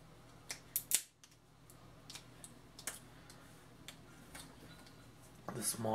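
Scissors snip through phone cable of the J-Y(ST)-Y type: a few sharp close clicks in quick succession, then scattered lighter snips and handling noises, loud and near against a quiet background.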